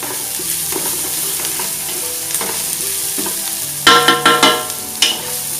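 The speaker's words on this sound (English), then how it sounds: "now I am adding green chilies. And I will give a good mix." Green chilies stirred through sizzling ginger-garlic paste in a pan for a mushroom pulav: a steady close frying hiss, then a quick run of spoon clanks against the pan near the end, with soft tonal music underneath.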